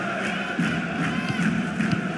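Stadium crowd at a Hajduk versus Dinamo Zagreb Croatian league match in FIFA 23, a dense continuous roar of cheering and chanting, loud and even, with no speech.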